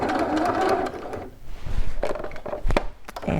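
A sewing machine runs at a 5/8 inch seam on shorts legs, with a steady stitching whir at first, then needle-drop clunks and short start-stop bursts with knocks as the back stitch begins.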